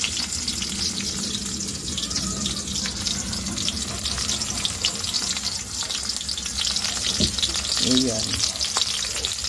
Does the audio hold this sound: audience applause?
no